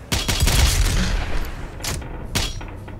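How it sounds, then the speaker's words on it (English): Heavy bursts of gunfire and booming blasts in Doom Eternal, loud and close, a dense volley at the start followed by a few sharper isolated shots against a rumbling background. "Who's shooting me?"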